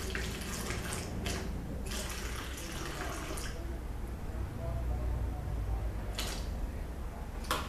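Water for goat milk soap is poured and measured into a container, a soft steady splashing trickle with a few brief stronger gushes, heard fairly faintly at close range.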